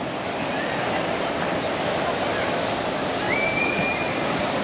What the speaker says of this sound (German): Dafür haben wir aber jetzt ein bisschen mehr Wellen.